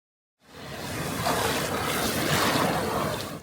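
Sea waves breaking along the coast near Jeongdongjin, a steady rushing wash of surf that swells in after a brief silence and holds evenly throughout.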